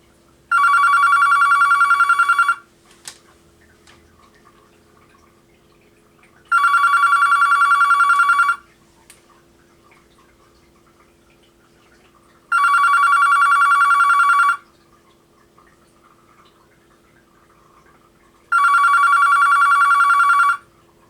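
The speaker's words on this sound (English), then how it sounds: "we'll ring this up one more time on line 2" A vintage Panasonic KX-TS25 corded telephone rings on line 2 with four loud, close electronic ring bursts, each about two seconds long and separated by roughly four-second silences.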